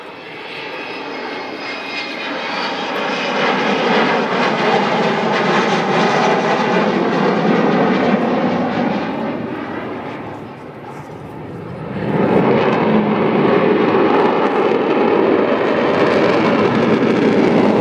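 A 1960 Avro Vulcan B2 bomber, XH558, roars through a flying display at Cosford, a loud sustained jet rumble that swells, dips briefly and surges back powerfully as it passes overhead.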